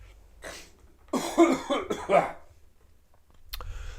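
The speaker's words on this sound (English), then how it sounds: "I have to cough one moment" A close, single fit of coughing in a few rough bursts, with a quieter breath or throat sound before and a short noise near the end.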